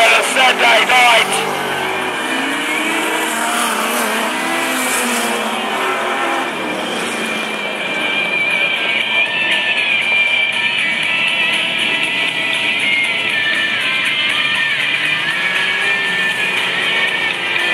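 Outlaw sprint sedans racing on a Saturday night at Mac's Speedway, a loud, continuous roar of several engines revving and passing throughout, with a race announcer talking over it.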